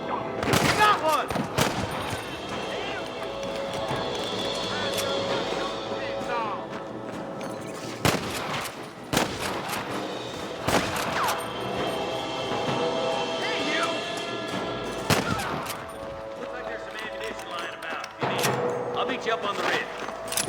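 Gunfire crackles through a Red Dead Redemption shootout: repeated sharp shots in irregular bursts, several loud and close, over a continuous rumbling bed, with voices speaking between volleys.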